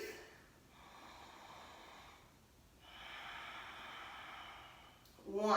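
Deep, slow breathing in a power yoga session, two long airy breaths near the mic separated by a quiet pause, with a short louder sound at the very end.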